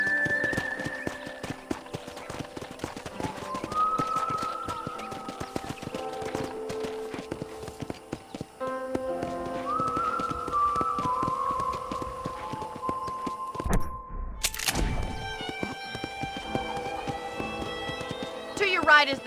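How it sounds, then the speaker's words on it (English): Steady horse hooves clip-clop at a trotting pace in Red Dead Redemption, beneath continuous talk and light background music, with a brief burst of noise midway. "let's see if you can still ride a horse"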